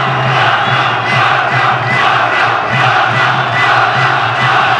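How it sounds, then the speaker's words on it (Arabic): Stadium crowd at a youth football semifinal between Egypt and Senegal, a dense, loud roar of massed voices with rhythmic surges of chanting, continuous throughout. "الآن الجمهور على ديون بوبي"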